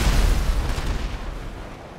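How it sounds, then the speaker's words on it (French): An oil tanker blowing up right beside a vehicle in the video game GTA V, a loud booming blast that rumbles and decays over two seconds, with no voices. "Dernier test, explosion de citerne avec le véhicule à côté."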